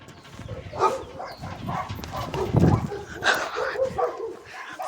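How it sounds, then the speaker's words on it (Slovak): Several dogs bark, yip and whimper close by in a yard, lively and fairly loud, with barely any voice alongside. "Tu sú psi."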